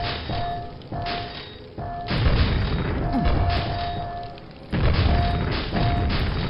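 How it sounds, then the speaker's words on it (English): Grenade explosions in the Quake video game, a run of loud booming thuds that keeps coming in waves, one after another, over a steady low game rumble. "these grenades are just going all over the place"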